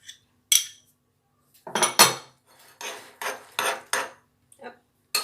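Turkey stuffing being mixed with roquefort cream in a bowl, a series of separate scraping and clinking strokes of a utensil against the dish, close and distinct with short quiet gaps between them.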